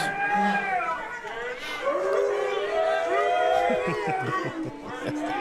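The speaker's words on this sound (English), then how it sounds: "Let's get some loud crowd noise." Loud bowling crowd at the Agent Ong Open match between Kyle Troup and Matt Jones, a dense roar of many overlapping shouting and cheering voices sustained throughout.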